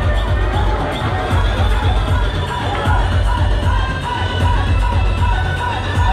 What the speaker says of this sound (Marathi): सुंदर सुंदर जोरदार टाळ्या झाल्या पाहिजे